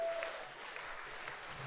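A baseball crowd of around 1,300 fans applauds and cheers at a Kitchener Panthers at London Majors IBL game, a faint, distant wash of clapping that stays low and steady throughout.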